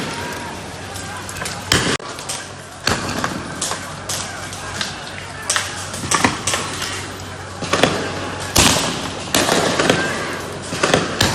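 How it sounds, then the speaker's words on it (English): Police flashbangs and rubber bullets fired during a pre-dawn raid in Hong Kong streets, heard as a string of sharp, loud bangs and pops at irregular intervals over constant crowd noise and shouting voices. "police attack with tear gas, flashbangs, and rubber bullets"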